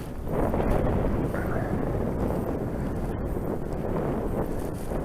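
A cold northerly wind blows steadily and loudly across the microphone on an open slope where a radio-controlled glider is flown, a continuous rumbling buffet.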